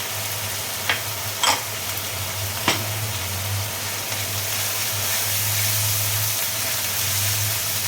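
Ginger-garlic paste with turmeric and spices frying in a pan for a Bengali potato-stalk curry, a steady soft sizzle with a low hum beneath and a few brief clinks of a spatula against the pan.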